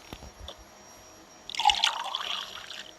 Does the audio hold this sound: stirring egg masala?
no